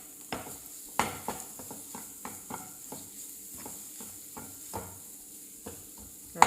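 Mushrooms in a pan give a soft sizzle as a utensil stirs and scrapes them in repeated light knocks and scrapes, quiet and close, ending with a sharper clink.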